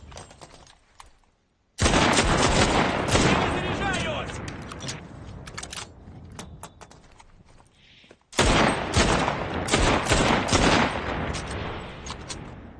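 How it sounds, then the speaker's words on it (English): Rifle fire in the World War II shooter Enlisted, bursts of rapid, dense gunshots crackling in two long volleys separated by a brief lull, loud and close. "Like the way that rifle sounds."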